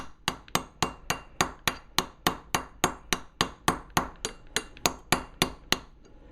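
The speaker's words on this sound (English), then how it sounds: "I'm just going to go down in the middle and start peening that." A hammer peens the head of a Snap-On ratchet through a blunt center point tool, making a steady, evenly spaced run of about twenty loud, ringing metallic strikes, close up and with no speech.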